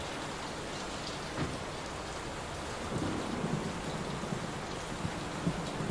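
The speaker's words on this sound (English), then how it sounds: "Will this storm ever run out of rain?" Storm rain in the horror video game Layers of Fear pours steadily in a dense hiss, with low rumbles of thunder rolling beneath it and no voices.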